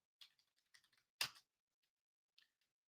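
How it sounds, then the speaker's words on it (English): A few scattered keystrokes tap on a computer keyboard, quiet and close, with one louder clack in the middle and short pauses between presses. "Here we go. Typing it in."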